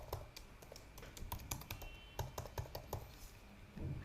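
Close, quiet typing on a computer keyboard while writing code, irregular bursts of key clicks with short pauses, alone without talk.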